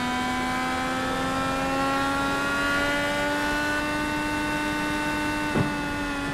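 Race cars of the Dark Horse Racing Area 51 Indy Series droning steadily on track, a continuous engine tone slowly climbing in pitch, with no talk.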